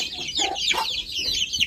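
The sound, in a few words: native chickens clucking on a farm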